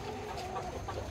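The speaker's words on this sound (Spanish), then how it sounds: "Están todas las gallinas." Several chickens cluck softly and continuously close by in a brief, busy burst of farmyard noise.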